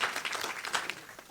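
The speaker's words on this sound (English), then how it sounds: "So, round of applause." Short burst of audience applause at a Juneteenth celebration for the nonprofit Blacks In Technology, steady dense clapping at moderate level lasting about a second.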